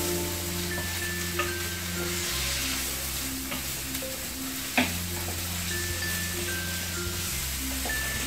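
Piquillo peppers fry in a pan for a chicken in mango sauce, giving a steady close sizzle with occasional sharp pops and stirring scrapes under a soft music bed, with no talk.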